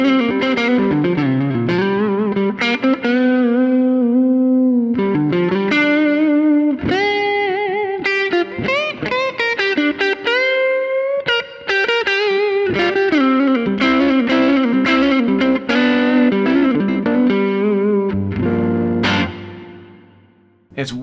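An electric guitar played through an Axe-Fx III amp model with a JFET compressor and reverb rings out in bluesy phrases of sustained notes and bends, with reverb tails between lines and the sound fading out at the end.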